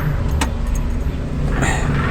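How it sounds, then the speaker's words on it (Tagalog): Ignition key turned in a car with a quick metallic jangle of keys, the engine already running as a loud steady low hum close by. "I-on lang natin yung susi."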